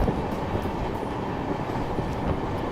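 The Bikaner Duronto Express, hauled by a diesel locomotive, rolls through the Thar Desert with a steady, dense rumble and rattle of carriages on the rails, close and continuous, with no voices.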